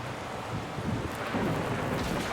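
Thunder from a lightning strike in the game The Gardens Between, heard as a brief, steady rumble with rain-like hiss at moderate volume and no voices.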